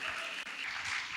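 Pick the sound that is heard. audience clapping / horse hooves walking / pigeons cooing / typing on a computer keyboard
audience clapping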